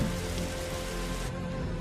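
Simulated heavy rainfall in an Unreal Engine 5 horror game, a thick, even wash of raindrops spattering on surfaces, constant and close, with the brightest hiss thinning slightly near the end.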